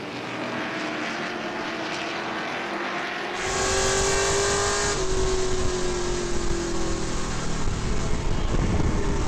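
Grand Stock cars roar around Langley Speedway in a 40-lap race, a loud continuous engine drone that swells as the pack passes close by.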